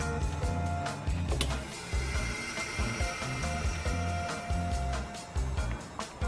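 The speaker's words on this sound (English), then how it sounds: "I want to set it on the highest setting for vacuum, so extracting as much air out of this." A vacuum sealer draws air out of a bag holding a cured lamb neck fillet on its highest setting, giving a loud, steady mechanical motor hum with rhythmic pulsing and clicks throughout, no talk.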